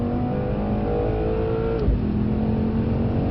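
A Mercedes-AMG C63s engine at full throttle, a loud sustained roar with rising pitch that dips briefly near the end before pulling again, close and steady with no voices.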